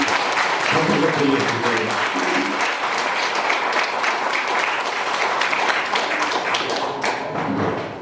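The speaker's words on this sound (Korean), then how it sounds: "힘찬 박수한번 보내주시면 감사하겠습니다" Guests at a wedding ceremony in Daegu applaud the couple with sustained, dense clapping from a crowd, steady and fairly loud throughout, with some voices underneath.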